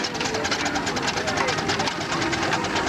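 A model single crank compound steam engine, a miniature based on an estate engine, runs steadily with a fast, even mechanical chuffing and rhythmic knocking, close and continuous throughout.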